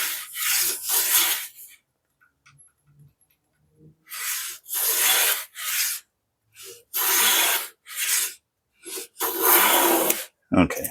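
Hand plane, an inexpensive No. 4 bench plane, shaving wood in repeated strokes; several loud raspy swishes, each about a second long, come close together with quiet pauses between, and a brief knock follows at the end.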